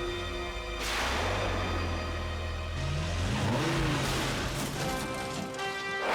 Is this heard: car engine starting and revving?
yes